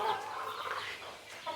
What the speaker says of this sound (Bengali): এই ক্যাম্পের মধ্যে আপাতত আমাদের টাইগার মুরগিগুলো আছে।